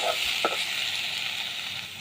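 Garlic and raw poppy seed paste fries in a pan with a steady, close hiss, joined by a brief stirring scrape near the start.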